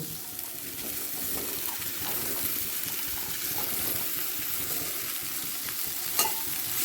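Steady sizzling and hissing of potato and cauliflower frying in a pan, with soft scraping as they are stirred throughout.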